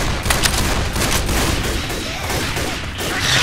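Rapid, dense gunfire from Left 4 Dead 2 rattles on without a break, its overlapping shots and bursts filling the whole stretch at a loud, close level.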